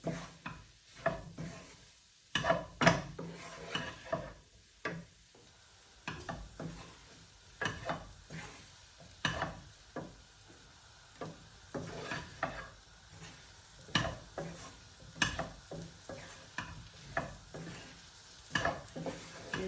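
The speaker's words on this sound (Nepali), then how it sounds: "अब यसलाई एकछिन एकदम लो फ्लेममा मजाले भुट्ने" Mutton sizzles gently in a pan on very low flame while a spatula stirs and scrapes it repeatedly in an uneven rhythm, close by and moderately loud.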